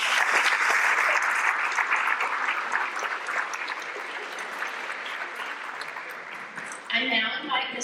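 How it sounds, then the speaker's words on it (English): An audience at a school board meeting gives a big round of applause for top ten students, a dense crowd of clapping that slowly thins before a voice comes in on the PA near the end. "Let's give our Patriots a big round of applause."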